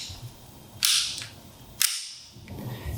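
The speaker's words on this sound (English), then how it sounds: "I'm assuming this has blowback here. So, gas blowback airsoft pistol." Two sharp snapping cracks about a second apart from a gas blowback airsoft pistol cycling its slide, close and loud over a quiet room, with no talking.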